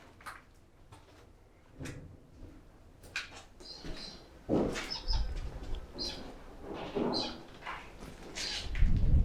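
At an outback station, a bird calls in scattered bursts mixed with fluttering wingbeats and knocks, close by and growing louder and busier toward the end.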